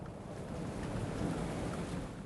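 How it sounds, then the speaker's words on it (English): Storm outside a treehouse: steady, dense rain pours down while low thunder rolls underneath, a constant, enveloping sound with no voices. "The rain has settled into a rhythm you could set a clock by if you needed one."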